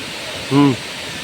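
A waterfall at a forest bathing spot in Kanyakumari district gives a steady, loud rushing hiss throughout, with a short tonal voice-like sound briefly rising above it midway.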